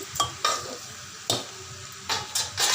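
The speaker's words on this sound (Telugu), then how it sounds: "ఉడకబెట్టి పక్కన పెట్టుకున్న చిక్కుడుగాయలు వేసి బాగా కలపాలి" A spoon stirring boiled broad beans into a tomato curry in a pan, giving several soft scraping strokes over a faint sizzle with no talk.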